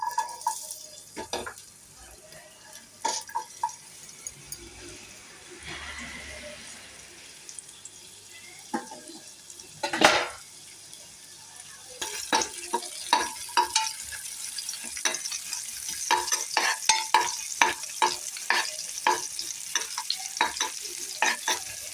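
Chopped onions sizzle and crackle in hot oil, with a spatula scraping and stirring the pan in quick irregular strokes, loud and close.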